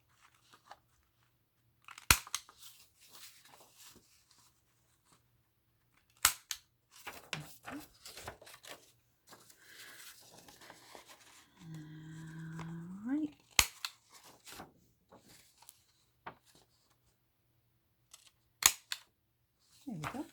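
Scissors snip sharply at paper corners to round them, a handful of crisp isolated cuts spread across quiet stretches, with soft paper handling and a faint murmuring voice in between.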